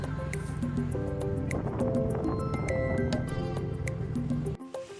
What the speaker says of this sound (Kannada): ಎಲ್ಲ ಕಡೆನೂ ಇದೇ ಥರ ನೀರು ಹರಿತಾ ಇತ್ತು ಫ್ರೆಂಡ್ಸ್ ತುಂಬ ಎಲ್ಲ ಮಿನಿ ಮಿನಿ ಫಾಲ್ಸ್ ಥರ ಇತ್ತು